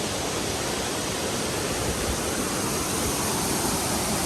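Steady rushing roar of White Owl Falls in Pisgah National Forest near Sapphire, North Carolina, cascading into a shallow wading pool, a broad continuous wash of falling water heard up close with no voices.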